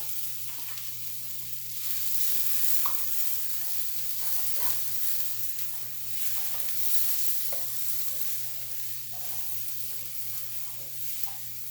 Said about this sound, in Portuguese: meu alho já tá começando a ficar dourado aqui. Vou colocar a cebola.